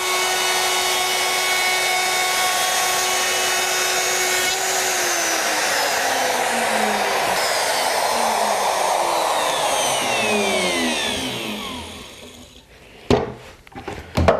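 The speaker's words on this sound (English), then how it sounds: "I've just finished routing a groove in the strip that'll go across the end" A power router cuts a groove along a wooden strip for a chicken coop, whining steadily at high pitch and close by. Near the end it winds down, with a few knocks and clatters as it is set aside.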